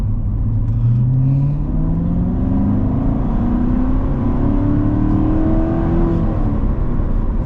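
A Corvette C7 Z51 with a manual transmission revs up steadily, its pitch climbing as it accelerates under a constant loud road and wind roar, heard from inside the car.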